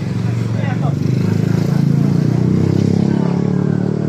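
A motorized tricycle engine idling and chugging close by with a steady low rumble, heard under people talking during a night patrol.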